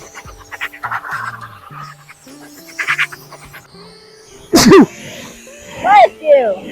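A sudden sharp sneeze bursts out mid-clip, preceded by quiet scattered talk and followed by a couple of short vocal sounds.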